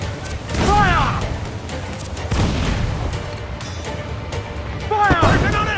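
Heavy ship cannons firing in Assassin's Creed IV: Black Flag, booming broadside blasts rolling out over a noisy naval battle, with shouting crew voices and a loud burst near the end.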